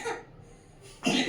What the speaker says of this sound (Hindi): ज्यादा खांसी आ रही तुम्हें हैं?